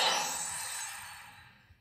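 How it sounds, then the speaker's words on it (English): A Google Pixel phone notification sound from the November 2025 Pixel Drop, a single soft shimmering chime that fades away smoothly over under two seconds, heard alone. "And then we have the notification."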